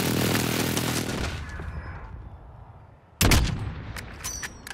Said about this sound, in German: Alles klar, Luftschlag im Anflug.